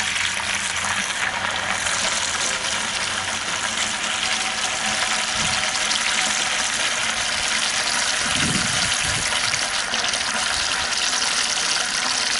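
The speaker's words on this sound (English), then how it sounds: "So let's turn the water on and see what we get" Water flushing through a Jeep JK heater core and pouring into a bucket, a loud continuous rushing gush with a few splashy surges, heard up close and alone.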